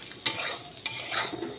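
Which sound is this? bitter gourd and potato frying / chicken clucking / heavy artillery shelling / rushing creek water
bitter gourd and potato frying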